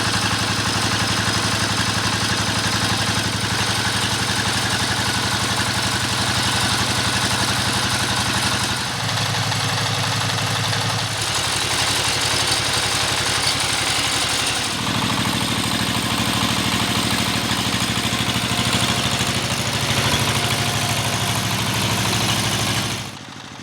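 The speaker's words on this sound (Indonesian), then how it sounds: "sudah hampir 5 menitan kita tes mesin diesel ini ya" A diesel engine, a single-cylinder S 1115 with oil coming from its exhaust, idles steadily through a test run of several minutes, loud and close with a constant knocking rumble and brief shifts in tone.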